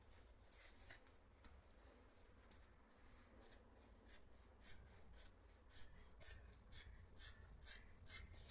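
Scissors cut fabric for a button-down dress, a quiet, close rasping and rubbing that turns into a regular run of crisp snips toward the end, with no speech.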